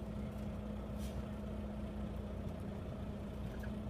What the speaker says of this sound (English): I'm pressing my tractor brakes.